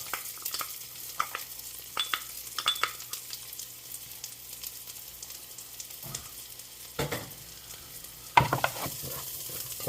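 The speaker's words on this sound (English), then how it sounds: "And to the olive oil, I'm going to add our shallots." Shallots sizzle steadily in hot olive oil in a pan while a utensil stirs, with irregular scraping clicks and louder clatters over a constant close frying hiss.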